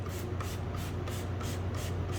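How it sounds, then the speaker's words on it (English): Rapid series of short pump-spray bursts of cleaner onto a towel, about eight evenly spaced hisses close up, with a low steady hum underneath. "I'm going to spray the towel and then I'm going to wipe the surface."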